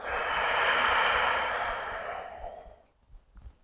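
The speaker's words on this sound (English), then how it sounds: "And long breath out." A long, steady breath exhaled through the nose or mouth during a yoga breathing exercise, fairly loud and close, trailing off into quiet after about two and a half seconds.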